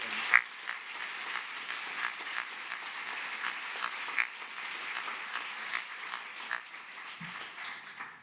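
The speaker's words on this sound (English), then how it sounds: "I hope that you join me in a big round of applause" An audience at a graduate student orientation applauds its speakers, a steady crowd of clapping hands at moderate distance with a few louder individual claps standing out, fading at the end.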